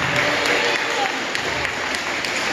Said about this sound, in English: give yourself a round of applause for being an awesome audience